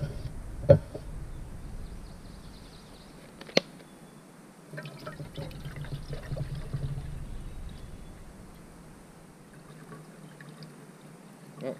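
Drinking water, about two cups, pours into a cooking pot at a backpacking camp on the Superior Hiking Trail: a soft, quiet trickle with a couple of sharp clinks and low rustling.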